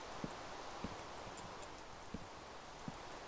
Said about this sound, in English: It's they have horses now and donkeys.